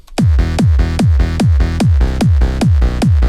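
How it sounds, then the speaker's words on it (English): A punchy electronic kick drum thumps on a steady four-on-the-floor beat, each hit blended with a deep, buzzy bass note filling the gaps. "Then the full kick and bass layer sounds like this."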